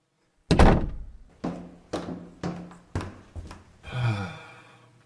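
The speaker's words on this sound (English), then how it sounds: "Close the door." Radio drama effect of an office door being closed: a heavy thunk followed by a string of knocks and latch clatters, ending with a softer rumble, close and loud.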